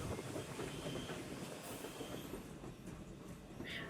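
A steam train runs on the Strasburg line at Lehman Place, Pennsylvania, near the Amtrak Keystone Corridor, giving a steady broadband rumble of rolling cars with faint wheel clatter and a brief high squeal near the end.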